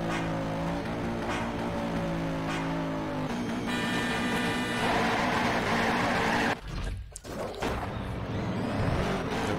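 Bugatti Veyron drag car in the Shift 2 Unleashed racing game, its engine revving hard and rising in pitch through the gears, with a brief dip at a gear change, loud and continuous.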